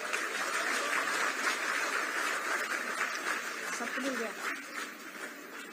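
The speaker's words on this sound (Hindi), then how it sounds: "तालियां जोरदार हो" An audience at a government appointment-letter ceremony applauds, a dense, continuous clapping that stays moderately loud and eases off slightly toward the end.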